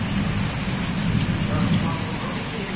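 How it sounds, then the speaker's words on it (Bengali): Heavy rain pours steadily in a hot-weather downpour with lightning, a dense, loud wash of drops and low rumble throughout, with no voices heard. "কি পরিমাণ বৃষ্টি হচ্ছে দেখো, প্রচুর প্রচুর বৃষ্টি হচ্ছে।"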